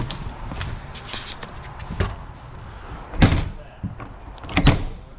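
The door of a 2022 XLR Hyperlite 3212 RV thuds shut, followed by latch and lock clunks, among scattered knocks and faint rustling background noise.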